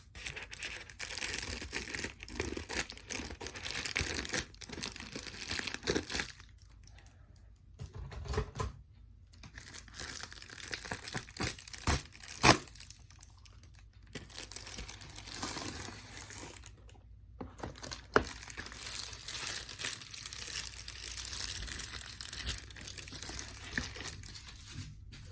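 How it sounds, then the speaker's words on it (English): Close-up crinkling and tearing of plastic packaging around a hairbrush, with bursts of rustling, crackles and scratchy handling separated by short quiet pauses. "I'd unbox this nice tingly plastic and open that box"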